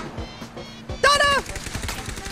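Video game gunfire cracks out in a short burst of sharp shots, loud and close, with excited voices shouting over and around it.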